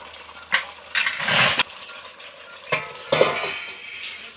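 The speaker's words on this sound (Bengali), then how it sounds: "এখন আমি আর একটু ঢাকা দিয়ে দেবো।" A metal lid goes onto a pot of chicken curry cooking with fresh Malabar spinach stalks, giving a handful of short clanks and scrapes, including a longer rattling clatter, over a quiet kitchen background.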